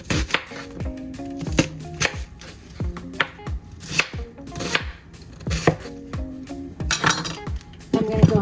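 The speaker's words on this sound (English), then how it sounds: "I'm going to go ahead and chop up the onion." A knife chops an onion rapidly on a cutting board, sharp irregular knocks close by, with a few clinks of utensils and no talking.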